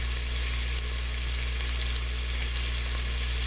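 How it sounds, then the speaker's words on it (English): Tap water running steadily into a kitchen sink while canned beans are rinsed and drained for pasta fagioli, a constant broadband hiss with no talking. "The beans are in the sink draining. I wash them off."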